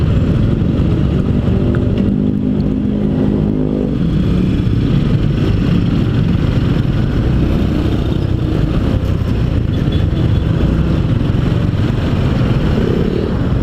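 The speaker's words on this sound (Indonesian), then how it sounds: "ini gua pakai motor biasa, Bray, ya, Karisma, motor Inventaris tuh" A Honda Karisma motorcycle rides through hot afternoon Jakarta traffic, its engine droning loud and steady with wind buffeting and surrounding road noise throughout.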